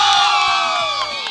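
A crowd of young people at an outdoor documentary screening in Parque Castilla lets out a loud, sustained shout and cheer, voices blending into one strong roar that fades slightly at the end.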